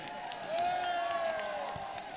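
A crowd at an outdoor election rally cheers and applauds, a dense, steady wash of clapping and shouting that swells after the first half-second and holds at a moderate level, with a sustained whistle-like tone rising above it.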